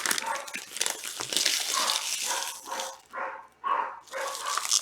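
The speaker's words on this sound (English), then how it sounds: "Uh-oh, dog's going crazy." A dog barks repeatedly in the background during a soccer trading card box break indoors. The barks are agitated, mid-distance bursts that grow more distinct toward the end, with rustling and a voice nearby.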